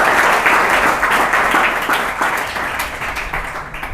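Sustained applause from an audience at a Ramadan gathering honoring an Islamic boarding school entrepreneur, dense steady clapping that fills the room and slowly tapers.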